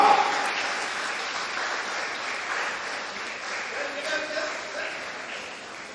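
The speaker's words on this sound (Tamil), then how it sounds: "ஒரு பலத்த கைத்தட்டல்கள் வழங்கலாம்" An audience at a Tamil society ceremony claps loudly, the applause strongest at first and then settling into a sustained, even patter for several seconds.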